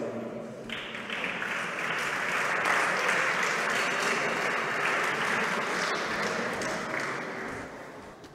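Audience applause for a cantor and musicians at a prize ceremony, a steady wash of clapping that builds in the first seconds, holds strong, then eases slightly toward the end.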